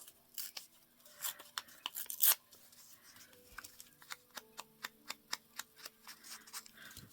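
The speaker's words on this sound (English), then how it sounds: "let's just tear this part right here" Paper being torn by hand during a card and junk-mail envelope craft session, a series of short crisp rips and crackles, then a run of sharp evenly spaced ticks, close and fairly quiet.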